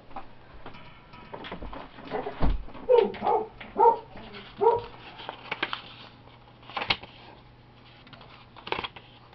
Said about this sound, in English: Sorry guys, that's my neighbor's dog in the background there.